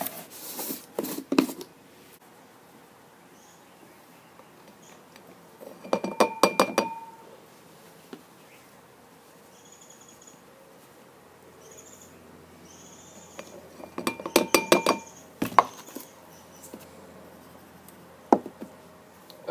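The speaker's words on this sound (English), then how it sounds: "I'll put some cornstarch in this beaker" Cornstarch poured and tapped into a glass beaker, heard as a few short bursts of clinking and rustling, separated by quiet pauses with a faint background hum.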